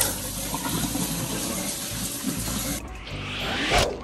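Water runs steadily from a tap for hand washing, a continuous close splashing rush that briefly shifts in tone near the end; nobody speaks.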